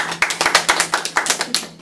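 Clapping from a studio audience during a Korean talk show, a small group striking hands in a quick, uneven rhythm of distinct, fairly close claps for under two seconds.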